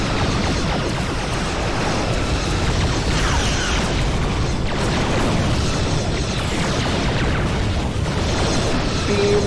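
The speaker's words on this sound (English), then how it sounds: "Beams and explosions." Dense, continuous booming explosions and energy-weapon fire from starship combat in Star Trek Armada 3, layered into a loud, unbroken roar of blasts and rumbling with no pauses.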